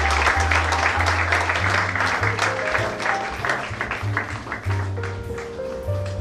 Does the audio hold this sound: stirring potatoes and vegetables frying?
no